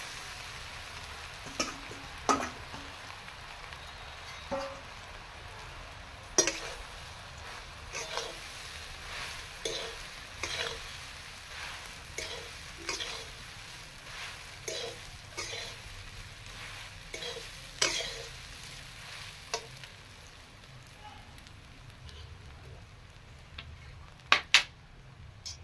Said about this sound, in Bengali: লং, এলাচ, দারচিনি দিয়ে দিলাম। আর এই মুড়িগুলো ভিজিয়ে রেখেছিলাম দিয়ে দিলাম।